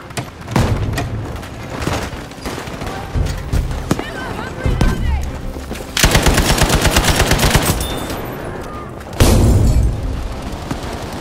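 A Type 11 light machine gun firing in Battlefield 5 Breakthrough multiplayer: loud, close rapid-fire bursts with a long sustained stream in the middle, amid distant battle noise and voices calling out.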